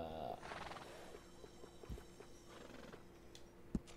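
A mare in the video game Red Dead Redemption 2 whinnies briefly at the start, followed by soft, irregular hoof clops and light thuds at close range.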